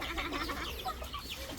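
Chickens cluck busily at feeding time in a rural province, a dense, close chorus of overlapping clucks and calls throughout the brief stretch.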